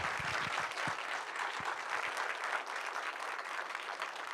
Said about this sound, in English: one more round of applause for our incredible artists